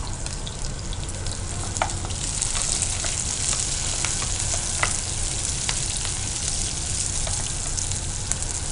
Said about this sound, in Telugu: ఈ ఆనియన్ మంచిగా ఫ్రై అవ్వాలని